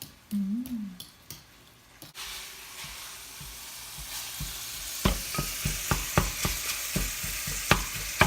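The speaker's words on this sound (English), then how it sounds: "then you can add your vegetables to the pan and cook them all together" Crumbled sausage with added vegetables frying in a pan for a keto spaghetti pie, a steady close sizzle broken by a run of sharp spatula scrapes and taps in the latter half, with no talking.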